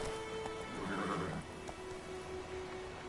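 Roach, Geralt's horse in the video game The Witcher 3: Wild Hunt, lets out a loud whinny early on, and hooves clip-clop beneath a steady game soundscape, with no one speaking.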